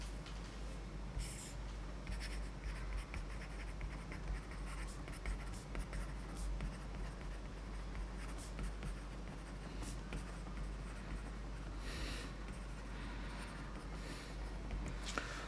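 Marker or chalk scratches across a board as a fluid-mechanics equation is written out, a continuous run of close squeaky strokes and taps with brief pauses, over a low background hum and no talking.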